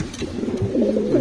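A racing pigeon at a south derby race coos softly in a low, rolling, continuous murmur close by, with no talk over it.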